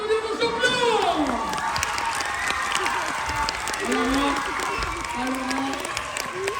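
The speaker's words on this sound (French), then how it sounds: "Mesdames et messieurs, je vous demande d'applaudir vos champions!" A studio audience on a French game show applauds and cheers the winning contestants, lively clapping mixed with shouts, while a host talks loudly over it throughout.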